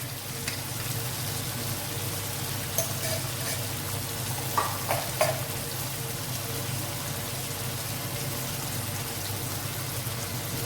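Ginger garlic paste fries in a pan for a restaurant-style moong dal tadka, making a steady, even sizzle with a few faint stirring clinks and no voices.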